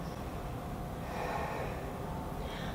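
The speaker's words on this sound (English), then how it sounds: "Full breaths here." Deep, full breaths drawn close to the mic while holding a yoga pose, a continuous rushing airflow that rises slightly mid-breath, with no talking.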